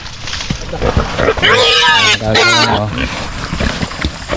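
Pregnant pigs on a small farm at feeding time, squealing and grunting in loud overlapping bursts, with a few goose-like honks mixed in and a person speaking over the noise.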